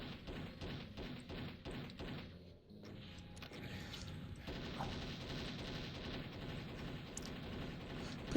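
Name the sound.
enemy gunfire in the video game Doom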